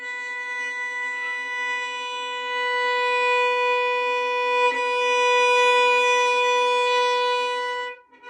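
A violin bow drops from the air onto the string at the frog and lands gently, then draws one long sustained note for about eight seconds. The note is played alone, close and steady, before it stops abruptly.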